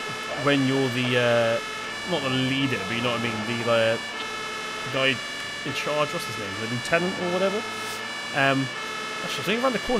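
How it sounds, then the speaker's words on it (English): A wailing emergency vehicle siren from the firefighting simulation game Emergency Call 112 sounds steadily in the background while someone talks over it, the tone rising and falling throughout. "Let's go ahead and get our siren turned off here."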